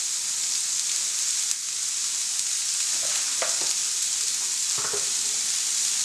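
Beetroot with turmeric and salt sizzles steadily in a pan while being mixed, with a constant frying hiss and a few soft scrapes and taps from stirring.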